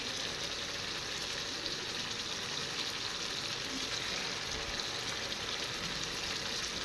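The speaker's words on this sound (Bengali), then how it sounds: "জল শুকিয়ে নিয়েছি তেল উঠে গেছে এবার আমি দিয়ে দেব ইলিশ মাছগুলো" Hilsa fish pieces fry in hot oil in a pan, giving off a soft, constant sizzle and crackle that stays even and fairly faint throughout.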